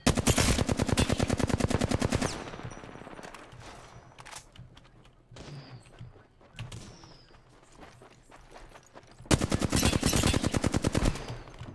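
Rapid automatic gunfire in a video game, loud dense bursts at the start and end with scattered single shots and footsteps between.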